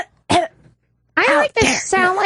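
A woman gives a short cough, then after a pause two harsher, strained coughs follow, the last one voiced and drawn out, close and loud.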